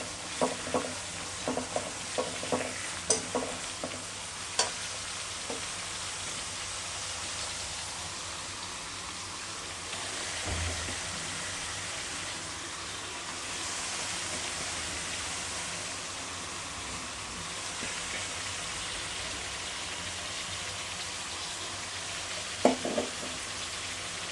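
Beef tripe fries steadily in a hot pan with a continuous, fairly quiet sizzle and crackle, broken by a few scattered clinks and stirring knocks, with no talk heard.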